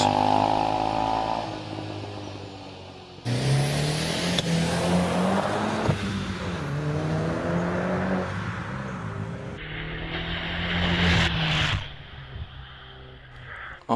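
An Audi TT 1800cc race car launches off the line at the Prescott club hill climb, its engine note climbing sharply through the gears, loud and close at first, then rising and pulling away into the distance.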